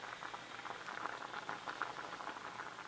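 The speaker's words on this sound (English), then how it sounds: "It's boiling." Rhubarb sauce simmers in a pot, a dense, steady patter of small bubbles popping continuously at close range, moderately quiet with no talking.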